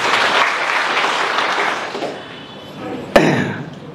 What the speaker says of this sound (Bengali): সাহসের জন্য একটা হাততালি দেওয়া